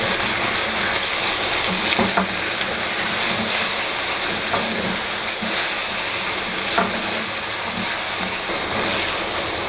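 Yogurt goes into sizzling chicken white karahi in a pan on lowered heat, producing a dense, continuous frying hiss with steam and occasional stirring scrapes, steady and close throughout.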